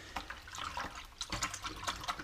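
Boot lace parts from a Boa M2 lace system are dipped into soapy water in a sink, giving soft, irregular sloshes and splashes in several bursts, close and faint.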